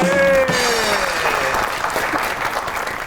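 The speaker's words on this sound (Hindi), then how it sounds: "आपकी बहुत सी तालियों में पनिया जमान खान।" A television comedy show audience bursts into loud applause, with a brief tonal sweep at the start, then clapping continues steadily and fades slightly.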